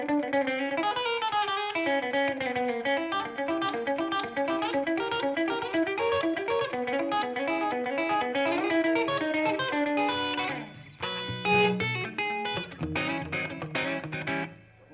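An electric guitar picks a quick, steady, repeating pattern of bright notes, close and clear, then breaks into a looser phrase near the end, with no voices.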